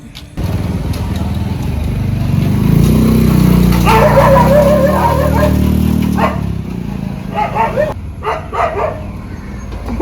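A dog barks and yips excitedly, fairly loud and close, with a voice briefly mixed in and an engine rumbling underneath.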